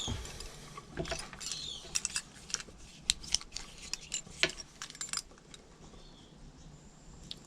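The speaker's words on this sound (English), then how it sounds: "Now to do the cut, take a Stanley knife." A Stanley knife cuts through wakebait lure material in a quiet room, giving a string of faint, separate scraping clicks and snicks spread through the clip, with no voices.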